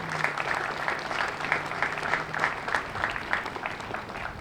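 Steady applause from a Memorial Day ceremony crowd honouring the families of fallen service members, a moderate, even wash of many hands clapping heard from a little distance.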